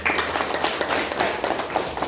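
Classroom clapping from a group of pupils, a steady dense patter of many hands lasting about two seconds, moderately loud with no talk over it.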